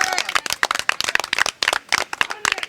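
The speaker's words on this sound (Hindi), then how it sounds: "जोरदार तालियां बजाओ जो कंधार के अपराधी मारे गए हैं उनके लिए" A crowd at a street gathering in Delhi claps for the Indian Army, sharp clustered hand claps in a fast, uneven rhythm, close and loud, with voices talking over them.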